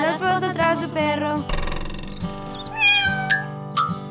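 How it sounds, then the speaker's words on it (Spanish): A cartoon cat meows several times in a Spanish-language children's song, the meows standing out against a bouncy musical backing. "El perro trajo un gato"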